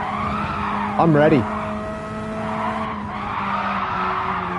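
A Radical race car slides sideways on the Road Atlanta circuit, a short loud burst of tire squeal over the steady engine drone, with a driver speaking briefly.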